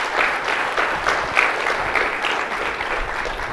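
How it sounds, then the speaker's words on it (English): An audience claps steadily and loudly, a dense wash of applause that holds at an even level throughout without a break. "a round of applause for the guts that these guys showed."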